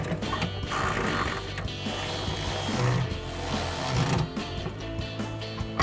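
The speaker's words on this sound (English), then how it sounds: "We're gonna grab our ratchet, 13mm socket, and a 13mm wrench." A ratchet fitted with a 13mm socket tightens bolts on a drop-step bracket for a 2019-2026 RAM 1500, giving a close, steady run of clicking strokes with a brief pause near the end.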